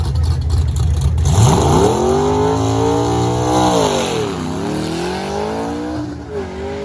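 An old gold Nissan Z launches down a quarter-mile drag strip, its engine loud and close as it climbs in pitch, shifts once, and pulls hard again through the run, with no talking.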